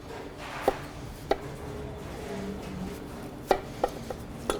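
Kitchen knife julienning a peeled vegetable on a cutting board, a handful of sharp, separate taps spaced irregularly over a soft background hiss, close and fairly quiet.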